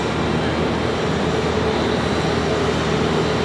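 An Airbus A319 airliner in Etihad livery comes back in to land at Charlotte Douglas International Airport, producing a steady, broad jet engine roar that stays loud and unchanging throughout.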